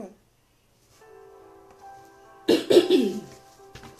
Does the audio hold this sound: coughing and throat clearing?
yes